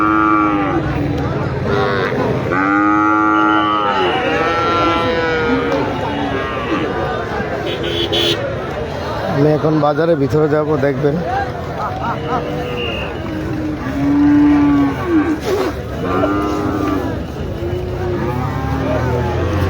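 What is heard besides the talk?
cattle mooing at a live cow market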